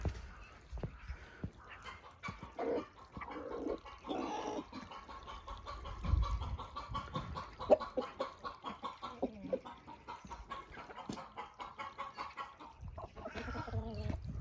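Several chickens cluck and murmur nearby in an irregular chorus, with occasional scratching and rustling around them.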